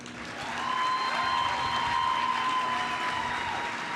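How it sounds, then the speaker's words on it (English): Audience applause at a live program's unveiling ceremony, a steady wash of clapping that swells in after half a second and holds loud and even, with a sustained tone running underneath. "yes, clap for that brother"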